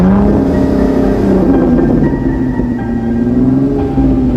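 Cartoon cars start up and drive off in a Squid Game–style scene. Steady, loud engine revving and rumbling carry on throughout with rising and falling pitch, and there is no talk.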